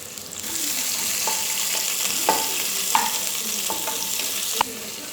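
Onion sautés in a pan for ghee rice, a continuous close sizzle with occasional sharp clinks and scrapes of a spoon stirring, no talking over it.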